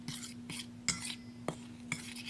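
Flour, salt and sugar being mixed in a bowl, a series of light scraping and tapping stirs repeating at a steady pace over a low constant hum.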